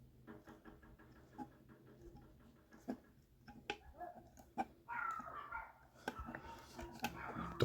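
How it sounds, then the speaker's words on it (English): A dog barks and yips in scattered bursts at a distance outdoors on a hot summer day, faint and irregular, with close clicking and tapping in the foreground. "Dog's going mad."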